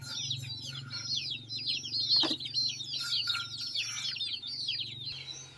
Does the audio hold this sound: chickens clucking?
yes